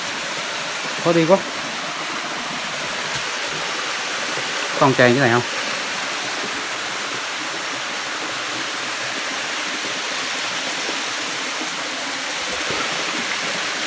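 A waterfall in an old-growth forest gives a steady, even rush of water that fills the whole stretch, with two short bursts of talk over it early on.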